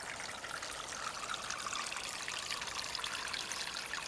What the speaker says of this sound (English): Lovely to hear the water running so freely, and running so freely into the pond.